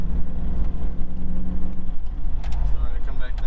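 A Hummer H2 fitted with an aFe exhaust accelerates from inside the cabin, its engine giving a loud, deep, rising rumble throughout, with people talking over it.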